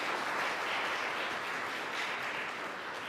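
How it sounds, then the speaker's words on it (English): A short, soft round of applause from an audience at a talk on uterine fibroids and legislative change, steady and fairly distant. "please, a round of applause"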